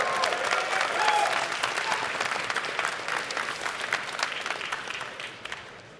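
A convention panel audience applauds and cheers loudly for several seconds, the clapping thinning out and fading toward the end.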